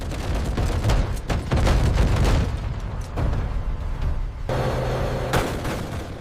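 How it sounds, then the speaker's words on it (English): An A-10 Warthog's 30mm cannon fires in heavy rattling bursts, loud and close, with a roaring engine drone between and after the volleys. "The cannon shudders into action with its terrifying clatter."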